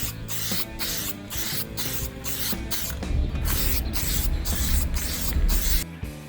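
Spray paint hissing onto a car's side skirt during a second coat, coming in repeated bursts of several seconds with short gaps between them, loud and close with no speech.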